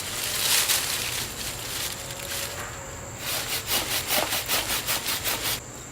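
A hand saw cuts through a piece of wood for a mallet handle, first with long rasping strokes and then a quick, even rhythm of loud back-and-forth strokes close by.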